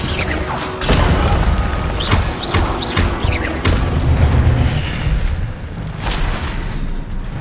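Incendio, a fire spell in Hogwarts Legacy, goes off in a run of loud, rumbling bursts and crackling impacts. Mechanical clatter comes in between the blasts.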